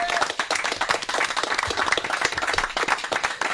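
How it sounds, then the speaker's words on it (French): Thunderous applause from a crowd, a dense roar of many hands clapping that stays loud and steady with brief sharp claps popping out of the mass. "Tonnerre d'applaudissements, s'il vous plaît."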